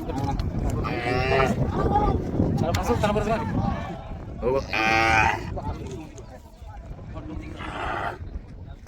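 Bullocks kept for bullock-cart racing low in three long, loud moos spaced a few seconds apart outdoors, over a constant rumble of background noise.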